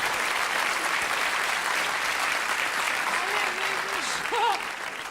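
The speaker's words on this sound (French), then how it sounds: "il y en a 3 qui ont applaudi" Applause from a theater audience at a comedy duo's stage show, a steady wash of clapping throughout with a brief voice rising and falling near the end.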